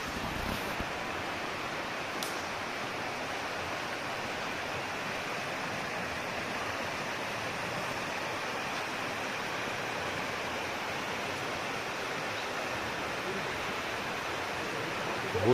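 Lulung waterfall in the Similipal forest of Mayurbhanj, Odisha, India, roars as a steady broadband rush of falling water, continuous and even, heard from a moderate distance with no voices.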